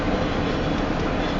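A southbound Union Pacific train on the Spine Line in Cambridge, Iowa, rolls past close by, giving a loud, steady, dense rumble of rail cars.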